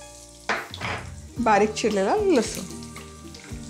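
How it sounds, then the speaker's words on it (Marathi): Chopped garlic sizzles and fries in hot oil tempered with mustard seeds, cumin and a pinch of asafoetida, crackling loudly and close while someone speaks over it. "लसूण छान सोनेरी रंगावर परतून घेऊयात आधी"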